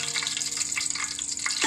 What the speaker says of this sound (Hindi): सबसे पहले हम इसमें ज़ीरा और दालचीनी ऐड करके चंद सेकंड्स के लिए इसको फ्राई करेंगे।